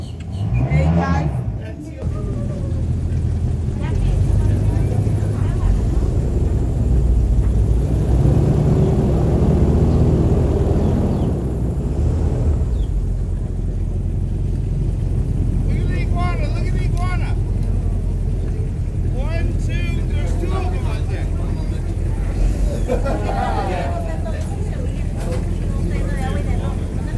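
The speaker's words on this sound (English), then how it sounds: "our new V8 Cadillac engines pushing out around" An airboat with a V8 Cadillac engine rumbles loudly and steadily, with a surge in power early on followed by a sustained deep drone, while someone talks over it throughout.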